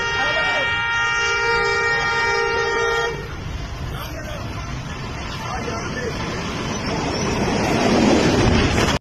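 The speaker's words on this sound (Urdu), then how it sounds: "ٹرین ڈرائیور ٹرین کو روک کر اور ہارن بجا کر لوگوں کو متوجہ کر رہے ہیں" A stopped train sounds its horn in a long, loud, steady blast lasting about three seconds. Crowd noise and voices follow, with people talking throughout.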